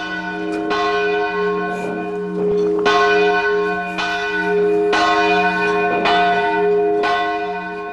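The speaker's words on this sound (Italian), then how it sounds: "Il suono delle campane nel buio mette un groppo in gola." Church bells peal in the dark over a ruined Istrian town, rich sustained tones with a fresh strike every second or two, loud and close with no voices.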